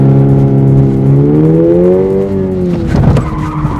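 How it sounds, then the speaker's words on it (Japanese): Car tires squeal long and loud through a drift-style side turn, the pitch sliding upward under a steady engine drone before breaking into a rougher scrub near the end. "ちょっとドリフトっぽくやってみます"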